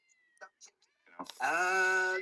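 A cat lets out a long, loud, drawn-out meow in a Geico insurance commercial, following brief scattered voices and clicks.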